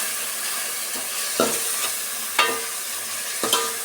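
Oil sizzles steadily in a pan as spices and tempering fry for bean sambar, while a utensil scrapes and clacks against it three times at roughly one-second intervals.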